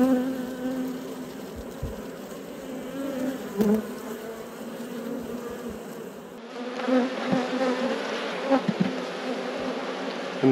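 Honey bees at an open hive give off a dense, steady buzz, close and continuous, with a few louder passes as individual bees fly near.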